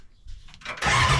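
A Bat Bike engine cranks briefly with a few soft turning pulses, then catches and fires into a loud running roar.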